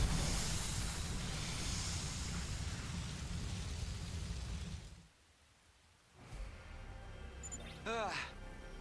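Rain in the video game The Hundred Line: Last Defense Academy, a dense steady hiss that cuts out suddenly and then returns more faintly, with a short tonal chime near the end.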